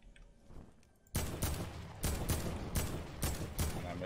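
Rapid bursts of gunfire in the video game Fortnite, loud and close, starting abruptly after a quiet second and repeating in a steady, rattling series of shots with no talk over them.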